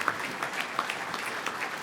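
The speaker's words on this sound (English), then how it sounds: "Now, give them a round of applause" Applause at a chamber of commerce annual banquet, a steady patter of hand clapping from a seated audience, moderately faint and lasting the whole short stretch with a few louder claps.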